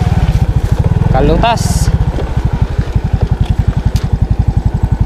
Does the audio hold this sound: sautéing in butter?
no